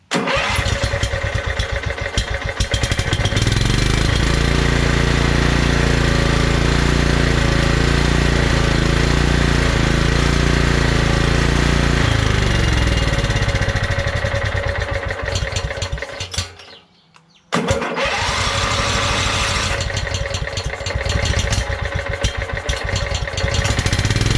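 A Kohler Command engine on a Scotts by John Deere lawn tractor cranks, fires and runs with a loud close chugging roar, then shuts off abruptly and is restarted, running strongly again to the end.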